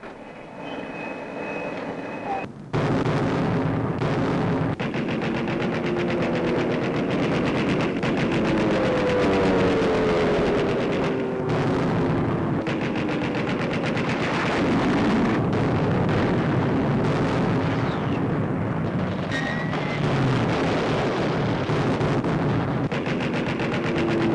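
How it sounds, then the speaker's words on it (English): Naval guns firing in a 1942 South Pacific offensive with shells exploding ashore, heard as a continuous loud barrage of booms and rapid gunfire that starts abruptly after a short quieter lead-in. "Opening guns of the American offensive in the South Pacific."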